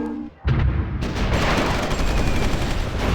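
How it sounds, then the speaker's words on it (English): Artillery fire in Supreme Ruler 2030 erupts suddenly after a brief quiet and keeps going as a loud, sustained barrage of booming blasts and crackling gunfire that fills the whole stretch. "Just let our artillery just deliver level first."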